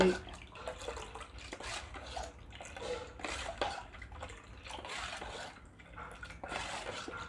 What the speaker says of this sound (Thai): อันนี้ใส่กะทิลงไป ใส่กะทิลงไป